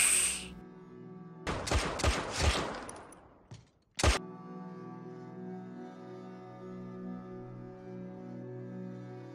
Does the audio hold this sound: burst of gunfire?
yes